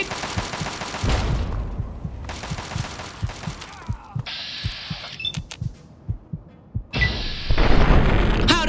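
A grenade blast and bursts of gunfire in the game Fallout 3: loud, rapid volleys of shots with booming impacts, several separate bursts with short gaps, close and dense.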